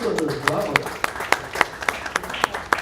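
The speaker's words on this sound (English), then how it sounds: "Another round of applause for her." Audience applause at a tech conference panel, scattered individual claps standing out sharply over murmuring voices and a speaker talking.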